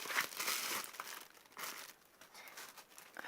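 Close, crackly crinkling of packing paper being scrunched in short bursts while unboxing a Canon EOS 700D camera, fairly quiet, with no talking.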